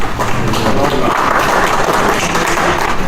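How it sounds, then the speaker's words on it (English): Loud, dense audience applause at a deer control community meeting in a public library, a continuous roar of many hands clapping close by from start to finish. "So again, give yourself a round of applause."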